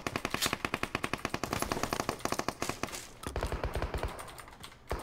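Rapid automatic gunfire in PUBG Mobile, sustained bursts of closely spaced sharp shots from a nearby weapon, shifting to a slightly different firing rhythm partway through.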